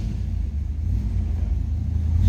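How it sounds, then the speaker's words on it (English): A 1972 Chevrolet Chevelle Heavy Chevy with power steering and power brakes rumbles close and loud, its engine settling into a steady low, throbbing idle with slight pulsing swells. "Let's go ahead and start it up,"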